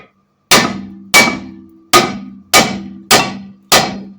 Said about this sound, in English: to get the rotor off your hub, you want to hit it in between the wheel studs